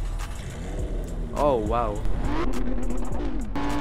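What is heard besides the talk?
Lamborghini Gallardo engine in Roblox video game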